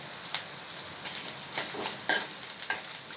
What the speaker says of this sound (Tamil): மிளகா லைட்டாக வறுபட்டு வரட்டும்.